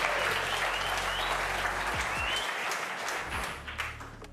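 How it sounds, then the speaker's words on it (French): A room full of people claps for a coach named Cédric at a session in Martinique, a loud, dense burst of applause that gradually thins and fades, with some low thuds and faint voices underneath. "tonnerre d'applaudissements pour Cédric"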